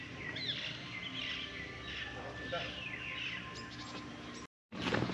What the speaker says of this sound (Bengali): তোমরা পাখির আওয়াজ শুনতে পাবে, শোনো